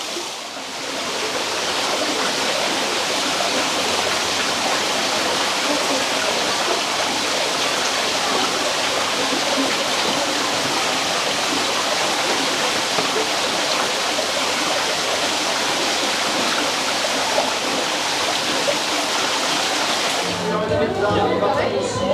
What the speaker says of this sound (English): watching the waterfall.